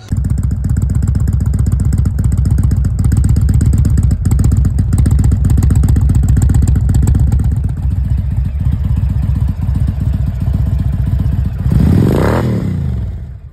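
An Indian Chieftain motorcycle engine runs steadily close by with a low, even, throbbing rumble that holds throughout, then swells briefly in a short rev near the end.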